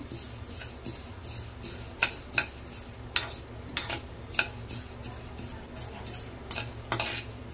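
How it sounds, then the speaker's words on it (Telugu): Mustard seeds fry lightly in a pan while a metal spoon stirs them, producing a faint sizzle under repeated sharp scraping clinks that recur in an irregular rhythm, close by. "అందులో ఆవాలు వేసుకోవాలి. ఇవి కొంచెం లైట్గా వేయించుకోవాలి"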